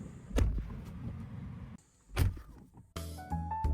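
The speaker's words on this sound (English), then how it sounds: "The door lock sounds are also much better." Door locks on a Tesla Model 3 Highland actuate in several short mechanical clunks spaced apart, ending in a brief electronic chime-like tone, close and clear with no talk.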